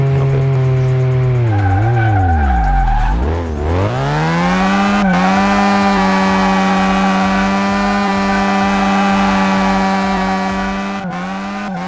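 A car from Car Mechanic Simulator 2018 drifts over rough terrain, its engine loud and steady. Tires squeal as the revs dip sharply around the third second and then climb to a sustained high whine.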